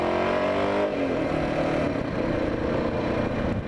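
A 1979 Yamaha XT500 single-cylinder motorcycle revs loudly up close with a deep, grunting low-end exhaust note that rises and holds steady throughout, with no talking.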